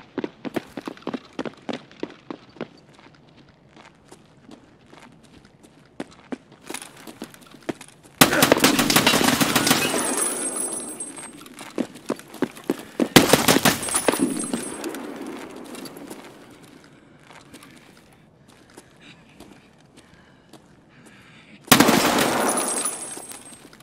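Semi-automatic rifle fire in Escape from Tarkov: sparse single shots early, then loud sustained volleys with long ringing tails, separated by quieter stretches.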